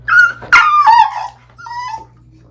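Puppy whimpering and yipping in high, wavering cries, a few close bursts in quick succession over a steady low hum, with no talk during the cries.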